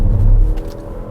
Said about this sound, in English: That is an impressive little four-cylinder, honestly.